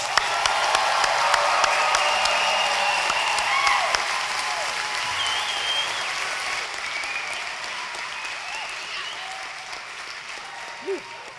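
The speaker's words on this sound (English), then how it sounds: "One more round of applause for our graduates." Applause for graduates at a spring commencement ceremony in a large hall, a sustained crowd clapping that gradually fades, with some cheers and voices mixed in.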